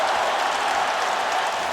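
An arena crowd at a UFC 222 fight roars in a dense, sustained wash of cheering and applause, loud and unbroken throughout.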